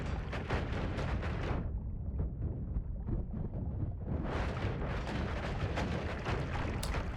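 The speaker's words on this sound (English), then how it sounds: "Those are some limp explosion projectiles." Explosive projectiles fire repeatedly in the video game Noita, a dense run of low booming blasts with a brief quieter lull midway before the bursts resume at full strength.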